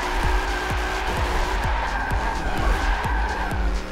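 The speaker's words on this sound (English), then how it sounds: "But she is drifting now." Mercedes-AMG C63 twin-turbo drifting in the Forza 7 racing game, a loud continuous engine roar with steady tire squeal and repeated skidding sweeps, close and alone with no talking.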